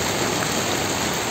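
Heavy typhoon rain pours steadily in the Philippines during Typhoon Crising, a dense, unbroken roar of hissing downpour that is loud and close with no other sounds standing out.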